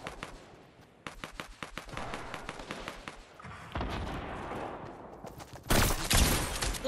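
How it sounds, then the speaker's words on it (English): Rapid bursts of video game gunfire crackle in fast volleys, separated by short pauses, with a louder, denser stretch of shooting near the end and no voices over it. "someone's shooting at me"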